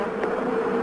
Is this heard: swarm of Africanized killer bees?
yes